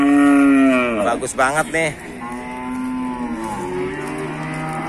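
Jabres cattle at a morning livestock market low and moo loudly, one long drawn-out call followed by a second bellow, close by, with a brief spoken voice between the calls.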